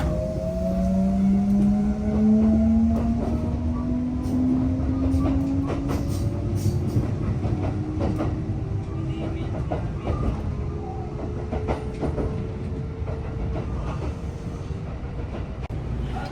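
A local train in Osaka, Japan rumbles along the tracks, heard from inside with a steady loud roll, clicking rail joints and long rising whines from the motors, with no speech.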